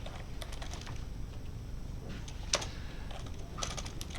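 Quiet, irregular clicking of computer keyboard keys as code is typed, with scattered clusters of keystrokes and one sharper key press midway over a low background hum.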